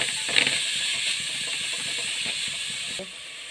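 Grated bottle gourd roasting in ghee with cardamom powder over low heat, giving a steady close hiss of frying that drops slightly near the end, with no talking.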